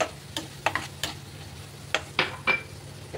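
A spoon works turmeric, Kashmiri red chili and coriander powder into soy paneer pav bhaji in a pan, giving about seven quiet, irregular scrapes and clicks against the metal with no voices.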